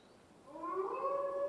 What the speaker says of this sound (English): Oh, that is not the sound of a dog, Ira. That is a wolf